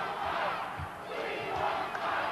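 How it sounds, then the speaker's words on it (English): Wrestling arena crowd in St. Louis chanting at a match, a loud continuous roar of massed voices with rhythmic swells throughout. "Crowd chanting about Spike Huber to Tully Blanchard."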